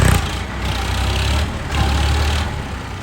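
A sugarcane truck with its tyres sunk in and stuck idles, giving a steady, loud low rumble with a brief dip midway and no voices.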